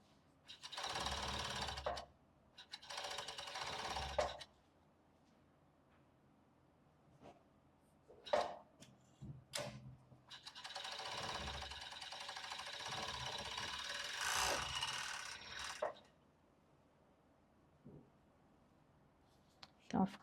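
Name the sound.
sewing machine stitching a lace bra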